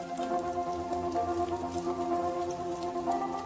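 Steady rain falls on a surface in an outdoor setting where hummingbirds bathe, a dense, even patter of drops with soft music underneath.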